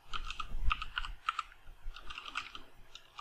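Fingers type on a computer keyboard, a quick uneven run of close, crisp key clicks with short pauses between bursts and a few heavier thumps.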